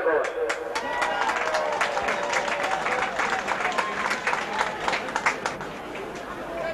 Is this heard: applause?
yes